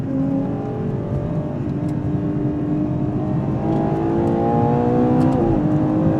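A Ferrari Purosangue's engine drones steadily from inside the cabin while driving, a loud, smooth, continuous hum with rising harmonic tones as it gently builds revs, no voices.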